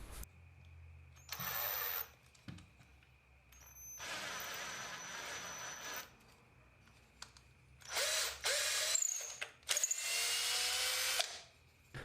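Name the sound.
tapping threads into holes in hardwood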